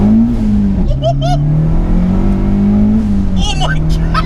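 Turbocharged 240 BHP Renault Clio 172 engine droning steadily at around 3,000 revs, loud and close from inside the car, with a brief lull in pitch midway and short shouts of speech over the top.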